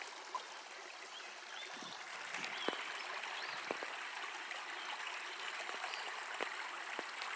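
Muddy spring-fed creek water flows steadily out of a creek, a soft continuous trickling wash with a few brief drips and splashes standing out, fairly faint and heard alone.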